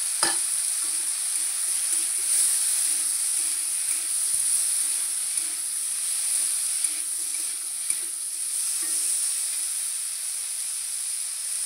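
Taro (mukhi kochu) frying in oil with turmeric powder gives a steady, close sizzle and hiss, with occasional soft clinks and scrapes of stirring and no talk.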